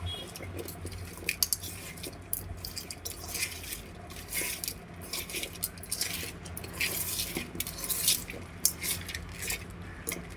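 Potato curry being stirred in a pan for an old village-style aloo dish, with a spoon scraping and clinking against the metal in an irregular rhythm and a soft wet squish from the mixture, close and fairly quiet, with no talking.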